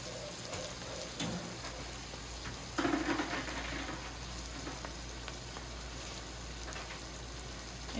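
Cabbage fries in a pot with a steady sizzle and crackle, plus a brief clatter and bump as more is stirred in partway through.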